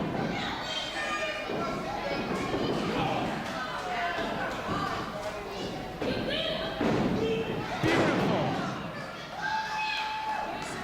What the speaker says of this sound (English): An incredible exploder suplex at the hand of Tyrino, but only gets 2.